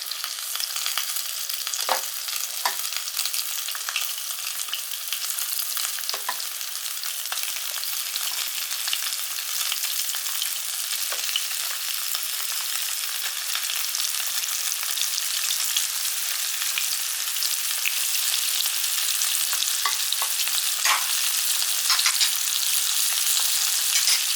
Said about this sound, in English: these should start sizzling right away, which they are